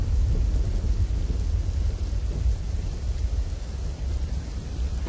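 Heavy downpour over a city street in Bhavnagar during flooding, a dense continuous roar of rain with deep low rumbling throughout, steady and loud with no voices.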